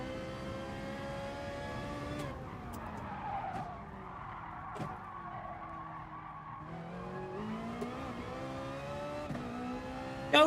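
A Ferrari race car in the video game GT Sport holds a steady, quietly mixed engine drone that shifts pitch with gear changes, while sharp tire squeals and skids cut in at intervals.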